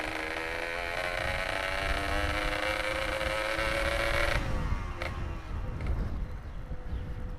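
A Yamaha RX King two-stroke motorcycle with a rebuilt, Orion-spec engine drones steadily while ridden on the road. The engine note shifts pitch around the midpoint, and wind rushes across the microphone throughout.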